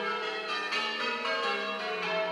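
A church bell rings from a bell tower in Cookham, its rich, sustained metallic tone with layered overtones carrying steadily throughout, loud and close, with no talking.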